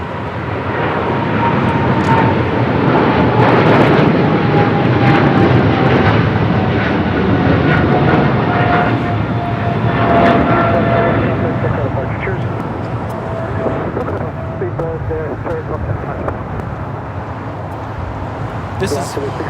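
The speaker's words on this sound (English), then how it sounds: "This is British Airways 280, Speedbird 28 Foxtrot Heavy, taking off to London Heathrow on a 777-300ER." British Airways Boeing 777-300ER taking off at LAX for London Heathrow: a heavy, continuous jet engine roar, loud at first and slowly easing as it recedes, with radio chatter and voices underneath.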